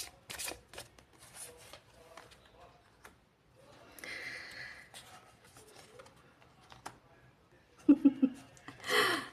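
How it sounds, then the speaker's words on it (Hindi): Tarot cards are shuffled in a quiet room, giving short, scattered riffling bursts with a louder flurry near the end, amid soft background sounds. "और ये कार्ड्स हमने आपके सामने ही शफल किए हैं"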